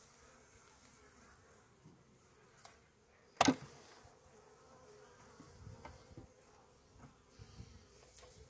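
Faint buzzing of honeybees at a hive drifts in and out against quiet surroundings, with one sharp close crackle partway through.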